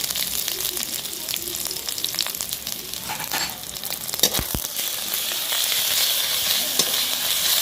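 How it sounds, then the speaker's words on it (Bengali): Garlic and ginger paste frying and being stirred in hot oil for an egg tadka, with a steady dense sizzle and scraping stirs throughout, loud and close, building slightly toward the end. "ভালো করে কষিয়ে নেব"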